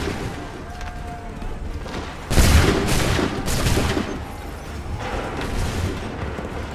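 A loud musket volley from soldiers in Assassin's Creed III Remastered at the Battle of Lexington: a sudden broad crack-boom with a rumbling tail, followed by further ragged gunfire bursts over battlefield ambience.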